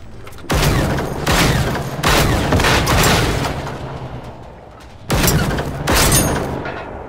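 Gunfire in the video game Generation Zero, loud and heavy, comes in sustained bursts roughly a second long with booming, reverberant tails, separated by brief lulls, and no voices.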